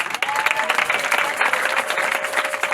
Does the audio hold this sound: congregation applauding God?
yes